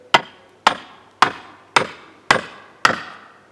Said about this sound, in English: I'm going to take the sledgehammer and just tap it in.